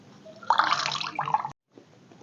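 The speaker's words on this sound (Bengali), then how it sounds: "প্রত্যেকটা রুটি এরকম জল দিয়ে ধুয়ে তুলে নেব জলটা ভালো করে এরকম করে নিগড়ে ফেলে দেবো" Water drips and splashes as soaked bread slices are wrung out by hand over a bowl, a short wet burst in the middle, then near quiet with faint trickling.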